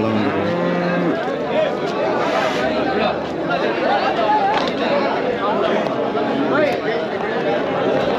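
Native cattle and bull calves moo repeatedly amid a busy crowd at Kundarapalli market, with people chattering throughout and animal calls rising over the steady market din.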